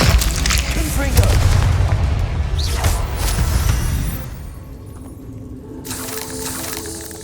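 A Confringo explosive spell in the Hogwarts Legacy video game, a loud booming blast with crackling bursts and a whoosh, fading to a quieter rumble after a few seconds.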